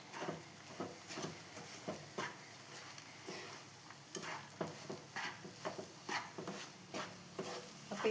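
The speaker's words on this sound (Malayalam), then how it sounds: "അപ്പം എല്ലാം കൂടി ഇളക്കി കൊടുക്കട്ടെ" Flattened rice mixed with grated coconut, jaggery, peanuts and cardamom powder in ghee is stirred in a pan, giving soft, fairly faint scraping strokes in an uneven rhythm over a low background hiss.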